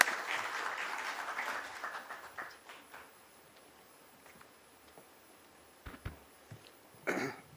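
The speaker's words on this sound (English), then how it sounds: "Let's have a huge round of applause for sir, please." Applause at a stock listing ceremony for GNG Electronics, a short burst of clapping that quickly thins into a few scattered claps and quiet room noise, with a cough or throat clearing near the end.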